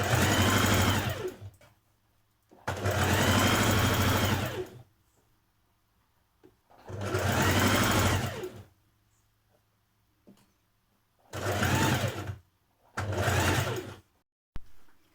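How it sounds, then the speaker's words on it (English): A sewing machine stitches a narrow hem along the overlocked bottom edge of a top. It runs in five loud, close bursts of steady whirring, separated by short quiet pauses. "I'm just doing a little narrow hem on the bottom, so I've overlocked it first"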